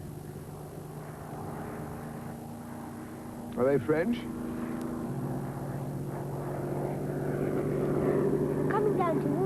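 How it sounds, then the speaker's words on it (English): Aeroplane engines drone steadily under a drama scene from the film Pied Piper, with voices speaking over the low hum that swells slightly toward the end. "I hear an aeroplane."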